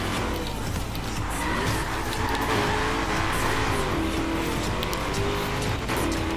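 Engines in the Xbox One racing game Forza Horizon 3 drone loudly and continuously as revs rise and fall, with tire squeal and skidding throughout and no clear voices.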